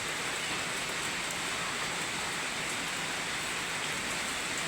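Steady rain falls continuously, a dense hiss of drops on surfaces with no voices or other sounds.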